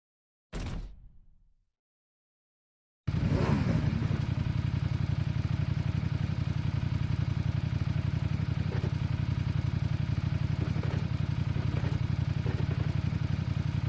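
A riderless motorcycle idles and runs steadily in PUBG Mobile, its engine a loud, continuous low drone that starts abruptly after a brief burst and a short silence, then holds an even rumble without pause.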